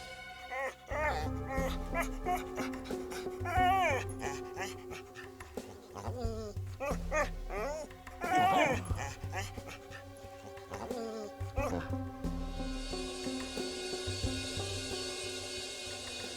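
An injured dog that has been shot whimpers and gives short barks with panting, mixed with people talking nearby.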